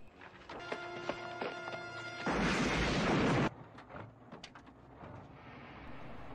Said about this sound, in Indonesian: Mereka bertiga kemudian segera turun dan meledakkan truknya dengan peledak milik dua orang tentara yang telah mereka bunuh.